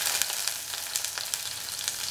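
Ginger and garlic pieces sizzling in a hot pan for a chilli taro root dish, a steady bright crackle with small irregular spits, close and alone with no talk.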